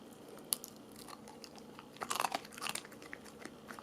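A dog crunches a hard homemade training treat, a few close, sharp bites scattered over a quiet background, with a brief cluster of louder chewing crunches in the middle.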